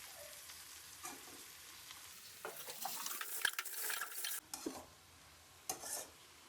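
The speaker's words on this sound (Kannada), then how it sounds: "ಸ್ವಲ್ಪ ಮಶ್ರೂಮ್ ಫ್ರೈ ಮಾಡ್ಕೊಳ್ಳೋಣ." Mushrooms and chopped onion frying for a Goan xacuti curry sizzle quietly in a pan, then a spoon stirs through them with scraping and a louder burst of hiss, followed by a few clinks and a brief final sizzle.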